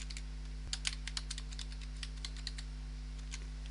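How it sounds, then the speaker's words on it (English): Rapid, uneven clicking of keys on a computer keyboard while typing a password during a Windows 8 installation, close and light, over a constant electrical hum. "Typing a password for it."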